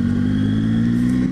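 Motorcycles on a mountain road pass nearby, a loud steady engine drone holding a constant pitch for a moment, with no voices.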